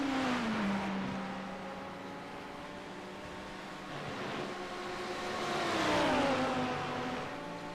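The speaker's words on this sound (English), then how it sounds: "You can hear cars still going into the pits." Race cars at Spa drone as they head into the pits, the engine note a steady hum that rises and shifts in pitch, heard at a distance with no voices.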